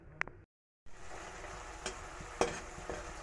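Brinjal and tengra fish curry cooking in a pan, a close steady sizzle with a few sharp scraping stirs and clicks after a brief cut, no voices.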